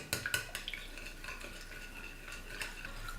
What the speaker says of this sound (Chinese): 35克食用油， 把它们充分的搅拌均匀